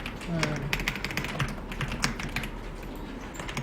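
Keys clacking on a Dokgeom Bluetooth keyboard, a rapid irregular run of light close taps that continues throughout at moderate level in a quiet room.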